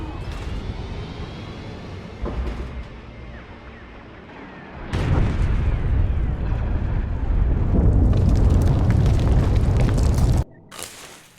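Starship weapons firing and explosions in Star Wars: The Old Republic, a quieter rumbling stretch broken by a heavy boom, then sustained loud roaring blasts and barrages before an abrupt cutoff.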